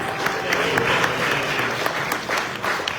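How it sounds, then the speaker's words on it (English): Audience at a Thai fashion event in New York clapping for a presenter, a steady wash of applause holding across the whole stretch with a few brief voices mixed in. "A round of applause for Anna."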